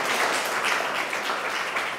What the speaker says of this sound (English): I want you to clap for Ada.